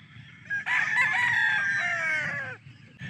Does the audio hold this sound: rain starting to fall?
no